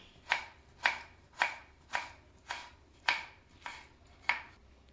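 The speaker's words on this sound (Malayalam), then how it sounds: "അപ്പോൾ ഈ മാങ്ങ ഇതുപോലെ നുറുക്കിയെടുത്തിട്ടുണ്ട്." Raw mango being chopped into pickle pieces with a knife on a board: eight crisp, evenly spaced chops about half a second apart, close and clear, with no talking.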